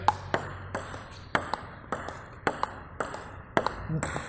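Table tennis ball struck back and forth against a Butterfly Viscaria racket in short play, crisp pinging hits in a steady rhythm, about a dozen close, clear impacts.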